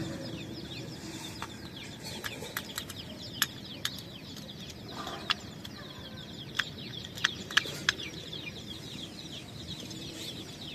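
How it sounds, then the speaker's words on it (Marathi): Free-range desi chickens and a rooster at a village home, sharp clucks and squawks scattered irregularly over a steady outdoor background, moderately distant and fairly faint. "मला आवाज येत असेल कोंबड्याचा बॅकग्राऊंडमध्ये"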